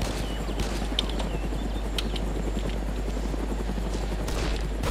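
In the video game DayZ, a helicopter drones steadily through the whole stretch, its rotor noise broad and continuous, with a few sharp cracks that may be distant gunfire scattered through it.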